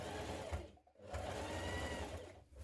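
A sewing machine top-stitches the central front seam of a hooded jacket around a patch pocket, running in two steady bursts with a brief pause between, close and fairly loud.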